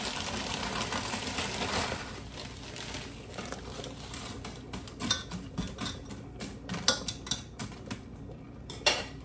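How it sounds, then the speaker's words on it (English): Frozen green beans tumble into a hot skillet with onions and bacon fat, a steady sizzle and crackle with scattered sharp clinks and rattles of beans and utensil against the pan, close and fairly loud throughout. "Gonna go ahead and add my green beans."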